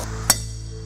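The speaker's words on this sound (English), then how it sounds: "So take this, set it on the anvil, really hit it." A single sharp metallic strike of a Cold Steel Jack dagger hit on an anvil, a loud ringing clang rising out of a steady low background hum.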